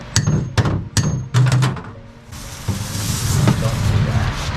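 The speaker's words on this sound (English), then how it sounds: "if I can just get it underneath there, hit it with a hammer, that may work" Hammer blows on a mason's chisel, a run of sharp metallic strikes in quick succession up close, followed by steadier clattering and background noise.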